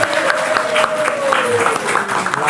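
Applause on a podcast set welcoming Bapak M. Purnomo Sidi, head of regional tax at the East Java Provincial Revenue Agency, a steady close patter of clapping from a small group with a voice talking over it.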